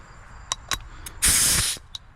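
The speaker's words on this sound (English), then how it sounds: "test spray every time" A paint spray gun fires a short, loud hissing test burst before a clear coat goes onto a car fender, preceded and followed by a few brief clicks and puffs.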